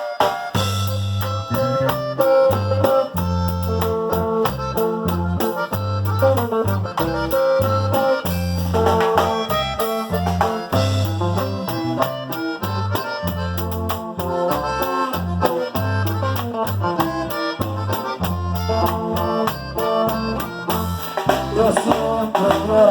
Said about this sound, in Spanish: Y este es un bolerito de los inolvidables.